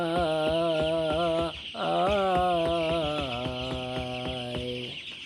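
Chickens and young chicks call on a poultry farm, a loud continuous series of rhythmic, pitched clucking cries that pause briefly near the middle and then resume.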